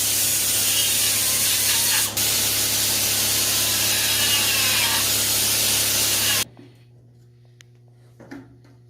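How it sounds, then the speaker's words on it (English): A grinder cuts into a cracked rearset mount from a Honda CB77 SuperHawk motorcycle with a loud continuous rough grinding hiss that stops abruptly, leaving a low hum and a brief faint clatter. "Now I'm grinding out the other side of the part so that the other side of the crack can be welded."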